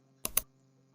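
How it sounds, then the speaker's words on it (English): Two quick key presses on a computer keyboard for the Windows plus R shortcut, close but soft, then quiet, with no talk. "So press Windows plus R keys on the keyboard"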